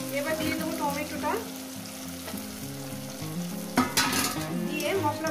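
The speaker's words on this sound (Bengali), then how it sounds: "এবার মশলাটাকে সুন্দর করে কষাতে থাকবো যতক্ষণ না মশলা থেকে তেলটা আলাদা হয়ে যাচ্ছে" Masala for a lote fish jhal frying and being stirred in oil, giving a steady close sizzle with occasional scrapes and a louder clatter near the end, over sustained tonal background sound.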